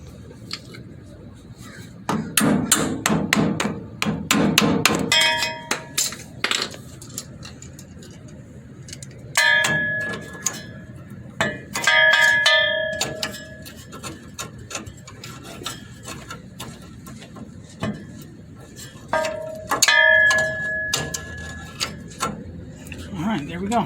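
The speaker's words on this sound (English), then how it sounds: "I'm gonna put you guys down so I can use a hammer and screwdriver here" Metal clinks and taps in short bursts as a hammer drives a screwdriver against a parking brake cable clip on a Ford F100, with ringing strikes separated by pauses.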